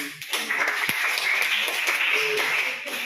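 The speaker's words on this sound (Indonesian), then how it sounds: "Tepuk tangan dong." A group of students in a classroom clapping their hands, a short burst of dense, overlapping claps at close range, lasting a few seconds before thinning out.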